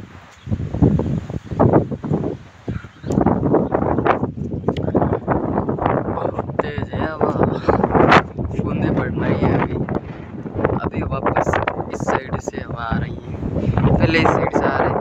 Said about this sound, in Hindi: वापस नीचे बहुत तेज हवाएं